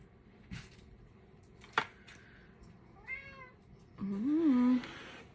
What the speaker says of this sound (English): Hear the cats talking.